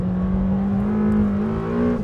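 Lamborghini Temerario prototype engine revving hard toward 10,000 rpm, a loud, close, steady high-pitched wail that climbs slightly in pitch before dropping off at the end.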